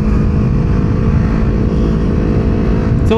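A loud 2016 Yamaha R25 motorcycle engine idles roughly and continuously close by, a harsh droning rumble with a brief higher whine at the end.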